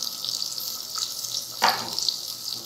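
Masala of coriander powder, turmeric and red chili powder fries in a handi pot with a soft, continuous sizzle. Near the middle, a brief louder scrape of stirring cuts in.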